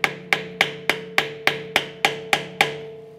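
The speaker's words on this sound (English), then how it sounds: "So we're just gonna use a flat screwdriver. We're gonna open up that so it will rotate." A flat screwdriver is struck with a hammer to open the staked axle spindle nut on a 2007-2013 Acura MDX front passenger side, ten sharp, evenly spaced metallic blows ringing close and loud, each with a short ringing decay.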